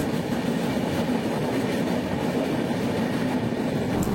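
A MEMU special passenger train bound for Rajahmundry from Vijayawada Junction rolls past close by. Its loud, steady roar of wheels and carriages fills the whole clip, with a faint rhythmic clatter on the rails.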